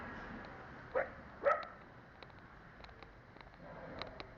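A dog on a road gives two short barks close together near the start, then fainter yips and street noise carry on through the rest.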